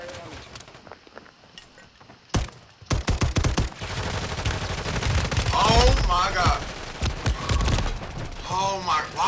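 SMG gunfire in Call of Duty: quiet game ambience, then a sharp crack followed by rapid bursts of shots and mechanical clatter, loud and near, with a voice talking over the later part.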